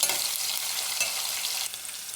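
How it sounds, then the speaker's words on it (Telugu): Onions frying in a pan for a spinach curry, a loud, steady hiss of sizzling oil with stirring, close up, easing slightly toward the end, no voices. "ఆనియన్స్ వేసుకుంటాము ఆనియన్స్ మగ్గుతున్నాయండి"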